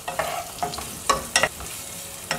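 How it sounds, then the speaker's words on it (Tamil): Chopped onions and curry leaves sauté in hot oil in a pan, giving a sizzling, crackling fry with several short stirring scrapes spaced unevenly across the clip, close and fairly loud, no talking. "பொடி பொடியாக நறுக்கி வச்சது, அதை போட்டுக்கலாம். அதுலேயே கருவேப்பிலை போட்டுக்கலாங்க. இதை வதக்கணும்."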